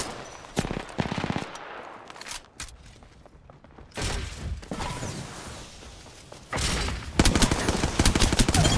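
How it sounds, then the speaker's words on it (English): Video-game gunfire rattles in rapid bursts, with machine-gun volleys and fusillades starting and stopping over several seconds, loud and close, with no speech. "They're shooting at me!"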